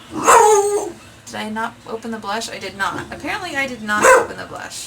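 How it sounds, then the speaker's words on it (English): A pet pit bull barks and yips loudly in the room, with sharp bursts at the start and again near the end, while someone talks over it. "That's my dog in the background. She's decided to bark."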